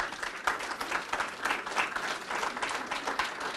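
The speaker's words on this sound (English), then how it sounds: "Can we give them a round of applause?" A room full of people at a budget meeting claps steadily, a sustained round of moderate applause without cheering.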